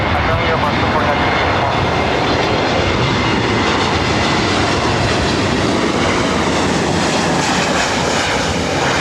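A jet airliner at LAX airport roars loudly and continuously close by, a broad, steady engine rumble that holds for the whole stretch.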